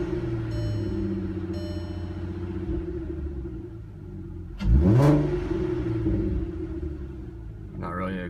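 A Volkswagen Mk4 R32 engine idles through its stock exhaust with a steady low rumble, then gives a single quick rev that swells and settles back to idle.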